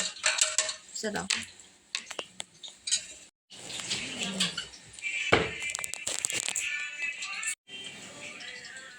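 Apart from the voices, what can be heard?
plate being taken out to serve fish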